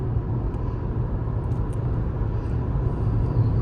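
Steady low cabin rumble of wind and road noise inside a 2022 Toyota RAV4 Hybrid SE cruising in normal mode, an even, continuous drone with no talking.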